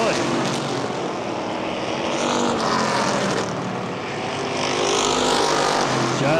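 Street stock race cars roaring around the oval at Baer Field Speedway during a 50-lap feature, a continuous loud engine drone rising and falling as cars pass, with an announcer talking over it.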